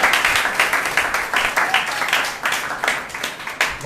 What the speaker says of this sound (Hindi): आइए जोरदार ताली हो